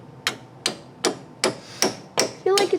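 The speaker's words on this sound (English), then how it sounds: "Just get a small hammer." A small hammer strikes seven times at an even pace, each blow sharp and close with a brief metallic ring, while front-end suspension parts are replaced on a car.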